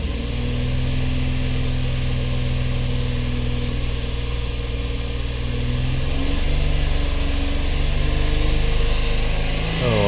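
A 2014 Ford Edge 3.5L V6 runs at a steady idle, then revs up about two-thirds through, its tone climbing and growing slightly louder; close and continuous, without talk.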